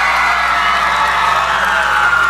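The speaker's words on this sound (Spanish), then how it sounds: "el público les agradece con este enorme aplauso la entrega" Loud audience cheering and whooping at an RBD television appearance, a dense sustained roar of a large excited crowd with shouts and some clapping woven through, continuous from start to finish.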